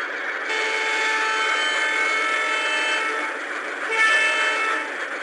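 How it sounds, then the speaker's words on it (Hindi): A long, loud train horn in an Indian train simulator video game blares with a steady tone, dipping briefly and returning stronger before fading slightly at the end. "ओके हमने एक लंबा सा हॉर्न मार दिया है।"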